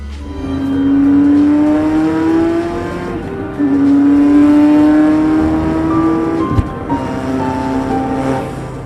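A Ferrari F40 with its 2936cc twin-turbo V8 engine accelerates hard, its loud engine note climbing steadily through gears, with a brief dip and a small thump midway before it pulls again.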